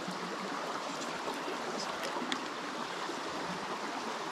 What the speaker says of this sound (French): Les cascades comme ça là.